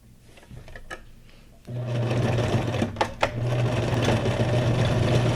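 Sewing machine stitching around the edges of a fabric junk journal tag, a steady close whir that starts after a quiet moment and runs continuously, with a couple of brief clicks partway through.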